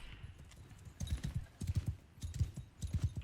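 Cavalry horses in the Bannerlord game moving in a column, a steady rhythmic clip-clop of many hooves rising and falling in waves, fairly close, with no talk over them.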